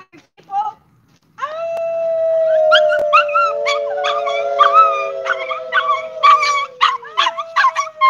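Several dogs howl together in a long, sustained chorus in a hot desert outdoor setting, with sliding wails layered over short yips and barks near the microphone; a brief voice comes before the howling starts.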